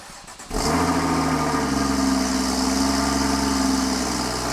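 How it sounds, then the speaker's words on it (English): A Porsche Boxster's flat-six engine cold-starts: a brief crank, then it catches with a sudden loud roar and settles straight into a steady, high, busy idle, close and dominant throughout. "Flat 6, cold start coming up."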